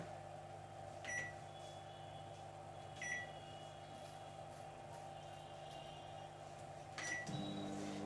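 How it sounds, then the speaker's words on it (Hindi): A Samsung Smart Oven runs in microwave mode with a steady, even hum. Three short beeps cut through, and the load shifts slightly near the end. "ये 5 मिनट के लिए हमने माइक्रो ऑन कर दिया।"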